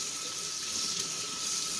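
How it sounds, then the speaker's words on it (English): A faucet stream runs onto a budget red dot sight, producing an even, close splashing hiss throughout the short stretch, with no talking. "Running water all over it real nicely."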